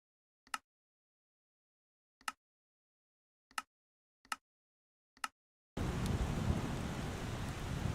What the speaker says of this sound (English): It's thundering now.